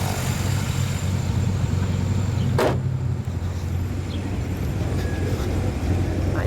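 A red 2015 Chevrolet Camaro Z/28 engine running, a steady low rumble at idle with a single sharp whoosh partway through, no talking over it.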